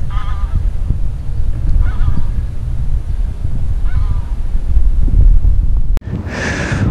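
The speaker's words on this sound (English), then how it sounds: "I've got my little friend down here, Mr. Duck" Duck honking near a fishing spot in early spring, several nasal calls in short bursts at moderate distance over a steady low outdoor rumble, with a louder burst at the end.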